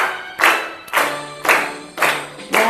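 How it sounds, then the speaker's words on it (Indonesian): A classroom of students claps together on a teacher's request, several loud, even bursts of unison clapping in a steady rhythm, close and without talk. "Tepuk tangan semuanya, Miss mau dengar tepuk tangannya."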